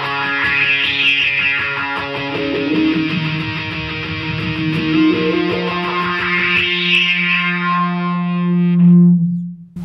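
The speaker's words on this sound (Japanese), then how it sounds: "フランジャーとはまた違って、なんかちょっと機械っぽい音といいますかね" Sustained electric guitar notes run through a mechanical, robotic-sounding effect unit, distinct from a flanger, with a metallic distorted tone and sweeping pulses. The notes ring loud and alone, with no talk, before a final low note.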